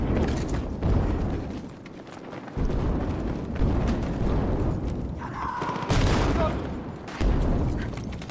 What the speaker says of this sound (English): Ah, that's a grenade.